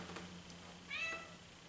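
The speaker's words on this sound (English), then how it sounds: "Miss Cat has entered the studio," A cat gives one short, faint meow midway as it comes into a quiet painting studio, over a low steady room hum.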